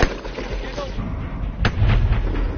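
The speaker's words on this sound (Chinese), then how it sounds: "方杰终于开始射击了。" A single sharp rifle shot cracks out at a timed military scout shooting competition, a brief loud report over steady low rumble and background noise, with faint voices around.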